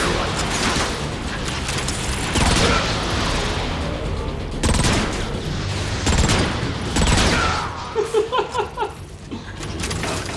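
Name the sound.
riot cannon firing, Transformers: Fall of Cybertron video game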